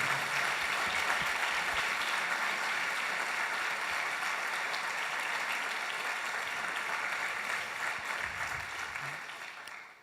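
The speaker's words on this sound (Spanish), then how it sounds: "¿Por qué no le damos un aplauso a los que están compartiendo con nosotros la transmisión?" A church congregation claps together during a Sunday worship service, a dense, even wash of applause that holds steady and then fades toward the end.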